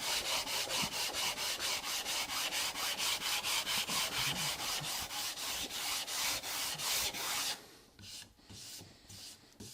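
Hand sanding a wood console table with 180-grit paper on a cork block, making a close, loud, even rhythm of rasping strokes that slows and thins out near the end.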